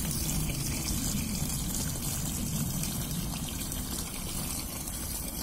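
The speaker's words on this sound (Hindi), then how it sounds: "ये आवाज़ देख ना पानी की, गुद गुद गुद गुद चुर चुर चुर चुर चुर चुर चुर चुर आवाज़ आ रही है" Cold, non-drinking water gurgles and flows steadily in a botanical garden, a close, continuous rushing and burbling wash that never pauses.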